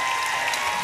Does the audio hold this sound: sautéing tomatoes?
no